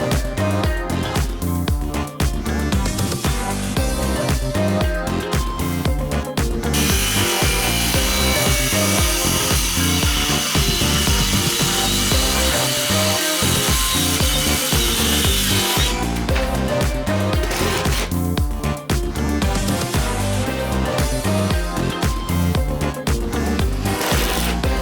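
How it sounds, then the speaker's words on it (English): A power saw cuts down 1/4 inch plywood for covering fireplace framing, running loud and continuous with a broad harsh whine that rises and shifts as the blade works through the sheet. "then to cover the framing, I'm cutting down a 1/4 inch plywood."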